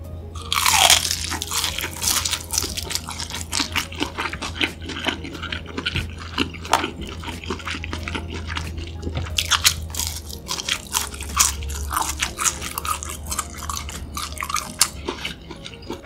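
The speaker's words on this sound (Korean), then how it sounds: "오징어 튀김 먼저 먹어볼게요" Crisp fried squid tempura is bitten and chewed up close, with a sharp loud crunch at the start followed by steady crackling chewing and repeated crunches throughout, without speech.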